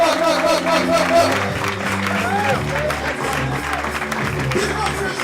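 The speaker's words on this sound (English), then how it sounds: "Clap it up loud, Mr. Alfred Konuwa." A comedy club audience applauds steadily throughout a showcase night, dense sustained clapping from a crowd with a low hum of voices and occasional shouts underneath.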